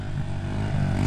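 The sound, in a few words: dirt bike engine riding off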